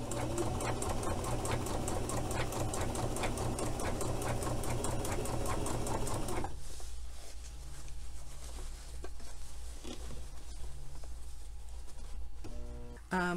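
Home sewing machine top stitching Butterick 6238 baby overalls with doubled thread and a lengthened stitch, a fast loud rhythmic needle chatter for about six seconds, then quieter intermittent whirring and clicks.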